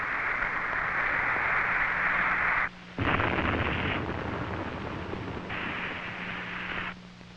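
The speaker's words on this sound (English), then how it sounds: "The missile is destroyed." A Titan II missile explodes during a test at Cape Kennedy in 1963, heard as a loud, sustained broadband roar in long bursts with a brief dropout near the middle and shifting intensity, with no talking.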